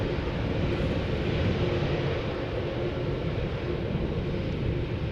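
A departing airliner at Schiphol Airport gives a steady, broad jet roar from a distance, unbroken for the whole stretch with no voices.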